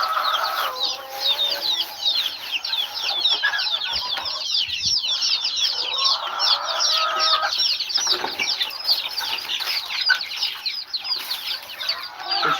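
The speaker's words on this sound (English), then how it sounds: "Those chicks are going nuts for feed right now." Chickens clucking and squawking busily while eating feed on a farm, a dense chorus of overlapping calls close by, with occasional wing flaps.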